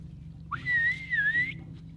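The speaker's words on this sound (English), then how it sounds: "The Hadza use a series of whistles to signal to one another." A single clear whistle, a Hadza signal call, rises and then holds a wavering high note for about a second, heard over a low background hum.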